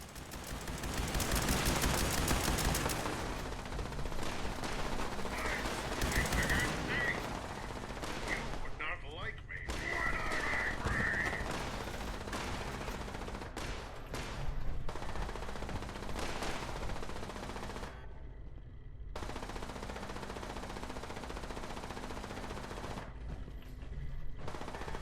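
Sustained video game gunfire from Fallout 76, bursts of rapid shots running near-continuously, with a player talking over parts of it.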